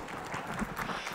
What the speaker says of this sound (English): let's give a very warm round of applause to Mukul Deva, Christos Tsiolkas, Shobhaa and Ashok Ferrey